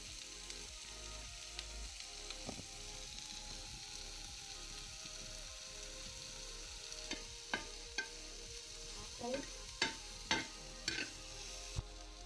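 Ghaypat (agave) vegetable frying in a pan for a traditional village bhaji, a quiet continuous sizzle with scattered clicks and scrapes of stirring that grow busier toward the end.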